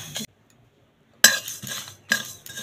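Dry red chilli, fennel seeds and cumin are stirred in a dry pan, giving brief scraping and clinking bursts of a spoon against metal, separated by a short silence.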